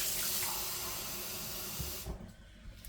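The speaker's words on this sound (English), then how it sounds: "I am going to add a little bit of water to this because I don't think it's got enough fluid in it." Water pours steadily from a tap into an Instant Pot holding partly frozen chicken, a close, loud hissing stream that stops abruptly near the end, leaving a quiet kitchen.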